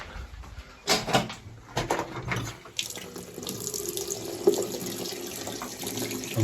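Water gushing from a tap in a house under renovation, still flowing after the stopcock was shut, preceded by a few knocks and clunks of handling, then a steady close running stream splashing into a sink.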